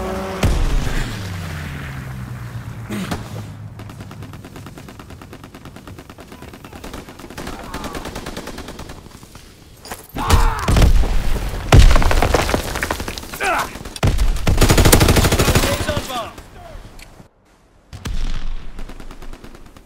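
A strafing run in the World War II shooter Call of Duty WW2 brings bursts of heavy automatic gunfire and booming impacts, loud and close, rising in waves with brief lulls and faint radio-style chatter underneath.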